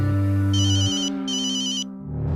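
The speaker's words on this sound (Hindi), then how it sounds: "अरे फोन उठाऊं कि नहीं उठाऊं वो बताओ।" A mobile phone ringtone plays in bursts, a repeating bright electronic melody in two phrases separated by a short gap, fairly loud and close, with no talking over it.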